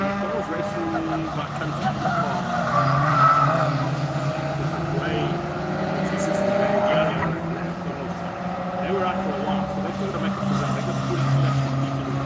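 Fun Cup race cars lapping the Kyalami circuit, their engines droning and revving continuously in the distance while a commentator talks over the noise throughout.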